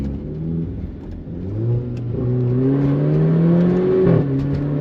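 An Alfa Romeo Giulia with a BMC air filter upgrade accelerates in race mode, its engine note climbing steadily in a smooth, close rising pull, with a brief dip before revving higher again.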